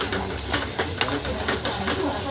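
Ginger and garlic hiss and sizzle steadily in hot oil for a Maharashtrian mutton curry, with soft crackling pops throughout while a person talks over it.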